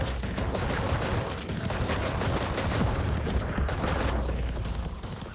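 Turrets exploding in the VR game Sweet Surrender on Quest 2, a dense, continuous crackle of gunfire and blasts at moderate level with no clear gaps.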